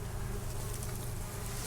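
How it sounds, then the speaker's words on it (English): Bees buzzing in and around a hive with a fresh swarm out front, a soft steady drone of many insects close by, faint and continuous with no voices. "there's a lot of bees in there doing their thing"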